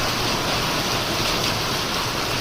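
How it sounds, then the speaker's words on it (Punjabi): Heavy rain pours onto a tarpaulin at a grain market, a loud, unbroken dense roar of drumming water close by, with no talk over it. "ਮੀਂਹ ਆ ਜਿਹੜਾ ਫੁੱਲ ਬਟਾ ਫੁੱਲ ਹੋਇਆ ਵਾ ਜੀ ਆਹ ਦੇਖੋ"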